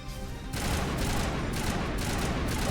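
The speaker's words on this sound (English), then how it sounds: "Let's try the assault rifle." Assault rifle fire in the Mass Effect video game, starting abruptly after a short pause and continuing as a dense, loud stream of rapid shots with small pulses of extra bursts throughout.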